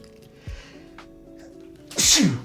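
After a brief faint rustle, one loud, sharp sneeze bursts out close by near the end.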